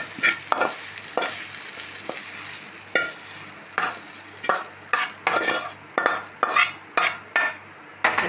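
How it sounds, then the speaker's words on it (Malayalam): Soya chunks fry in a pan under a steady sizzle while a utensil scrapes and stirs in repeated clattering strokes that quicken toward the end. "നമ്മൾ വെച്ച സോയ ചങ്ക്സ് പകുതി ഫ്രൈ ആയിട്ടുണ്ട്."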